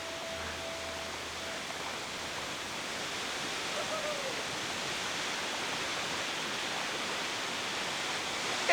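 Steady broadband rush of a waterfall in Madagascar, constant and enveloping with no pauses, a faint brief tone near the start.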